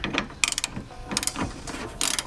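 A hand ratchet with an extension clicks in quick bursts while loosening 10mm bolts on the reservoir of a 2020 Toyota GR Supra, several separate runs of sharp pawl ticks up close.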